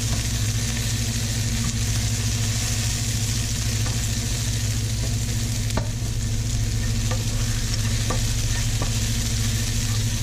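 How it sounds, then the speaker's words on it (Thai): Garlic and green chili stir-fried in a wok for Thai holy basil stir-fry, with a loud continuous sizzle, steady background hum and occasional sharp clicks of the spatula. "ผัดไปค่ะให้กระเทียมกับพริกมันหอมๆนะคะเนาะ"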